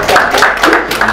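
A comedy show audience breaks into loud, close applause for a late arrival, quick overlapping claps forming a short, steady burst.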